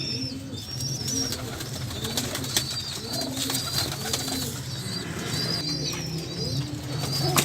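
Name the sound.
breeder pair of pigeons cooing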